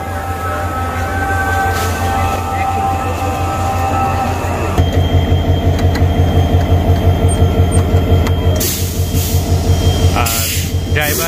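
A train pulls into Mirzapur railway station, its steady low engine rumble and rhythmic clatter of wheels over rail joints growing louder and faster midway, with brief bursts of higher screeching near the end.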